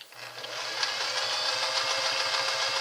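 A Singer 403A sewing machine runs steadily with a double needle, a dense rapid mechanical chatter with a rhythmic low thump, close and continuous throughout.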